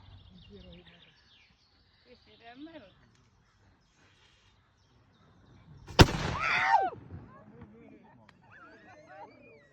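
A single sharp gunshot from an old gun cracks out, followed by a short rumbling echo and a voice reacting; quiet talk and birdsong surround it.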